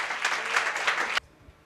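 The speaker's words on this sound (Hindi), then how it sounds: "तालियों के साथ हम उनका स्वागत करेंगे।" A church audience at a Good Friday fellowship gathering claps to welcome a pastor forward, a brief, dense burst of applause that cuts off abruptly after about a second, leaving near silence.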